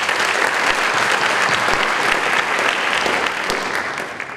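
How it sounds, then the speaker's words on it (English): Loud, dense applause from a large crowd at a high school awards assembly for a scholarship winner, sustained throughout and tapering slightly at the end. "So let's go ahead and give a round of applause."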